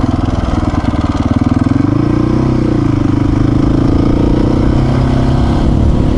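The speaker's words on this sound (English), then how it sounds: "I have to go back to first gear and then go up all the gears again." A motorcycle engine climbs through the gears on an open road after slowing behind a car, a loud, steady drone rising in pitch with each gear change and no voices over it.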